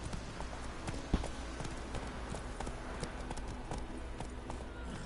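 A horse's hooves clip-clop steadily at a brisk riding pace in The Witcher 3 video game, with fairly faint rhythmic footfalls over soft background ambience.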